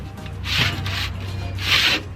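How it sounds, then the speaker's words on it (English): Brake rotors are sanded by hand, giving two distinct rasping strokes, each a short gritty scrape close to the microphone, separated by a brief pause. "I'm going to sand the rotors"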